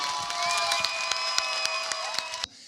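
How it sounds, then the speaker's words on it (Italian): A crowd at a political rally in Paternò, Sicily, applauds a mayoral candidate: dense, steady clapping with cheers and whistle-like tones, loud and continuous before stopping abruptly near the end. "Vorrei un grande applauso di incoraggiamento per Salvo Ladelfa"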